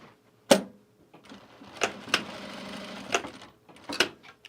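A sewing machine stitches fabric for a duffle bag in short bursts, with sharp clicks and knocks between a brief run of stitching, close up and alone.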